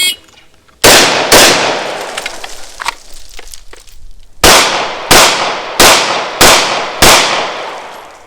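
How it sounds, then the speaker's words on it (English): Sharp, loud gunshots from a Fulton Armory A1 rifle followed by a pistol during a law-enforcement qualification course: two close rifle shots, a brief gap with handling noise, then five rapid, evenly spaced pistol shots. "On the signal to fire, I fire the last 2 rounds remaining in this rifle."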